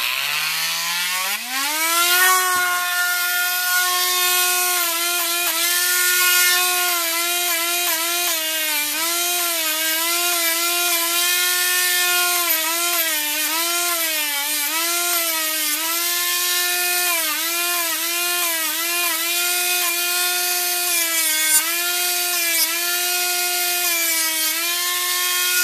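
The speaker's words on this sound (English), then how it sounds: "take the Dremel and clean up all the edges" A Dremel rotary tool held at a 45-degree angle sands the edges of a holster, giving a loud, steady high-pitched whine that shifts slightly in pitch as the load changes, close up and with no talking.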